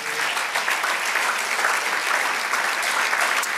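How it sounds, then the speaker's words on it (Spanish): A church congregation claps together in a sustained, even round of applause, many hands close and steady throughout with no voices standing out. "Dale un aplauso al Señor."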